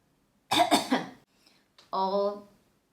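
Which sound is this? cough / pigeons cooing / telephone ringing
cough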